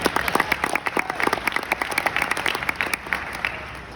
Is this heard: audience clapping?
yes